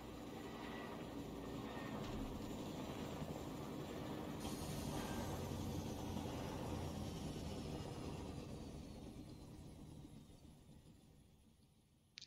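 Helicopter in the Fortnite battle royale game, a steady broadband rotor and engine drone that holds loud and continuous for most of the stretch before thinning out near the end, with no talk over it.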